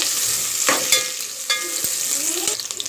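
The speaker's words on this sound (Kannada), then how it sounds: "ನಾನು ಆನಿಯನ್ನು ಫ್ರೈ ಮಾಡ್ಕೊತೀನಿ" Onions frying in a pan for Hyderabadi dum chicken biryani, a loud close sizzle broken by several sharp scrapes and clinks of a stirring spoon against the pan.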